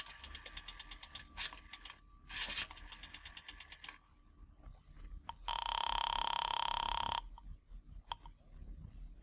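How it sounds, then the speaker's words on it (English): A 1940s-style rotary payphone is dialed in a radio drama effect, with rapid clicking dial bursts followed by a loud, steady ring tone from the receiver, then quiet. "I drove as far as the nearest drugstore, dropped a nickel in the slot, and dialed."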